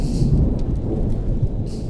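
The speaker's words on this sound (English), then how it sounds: "I love the rain." Steady rain pours down, hissing on surfaces, while a low rumble of thunder rolls underneath, loud and continuous with no voices.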